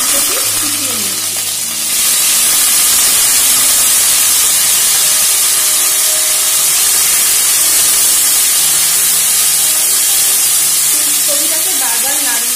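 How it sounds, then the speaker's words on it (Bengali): Chopped cauliflower hitting hot oil, a loud, bright burst of sizzling and steam that stays dense and continuous, with a few faint background clanks and murmurs. "এর মধ্যে আমি কুচো করে রাখা ফুলকপি দিয়ে দেবো।"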